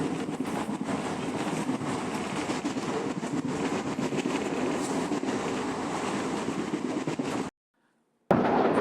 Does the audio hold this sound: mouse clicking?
no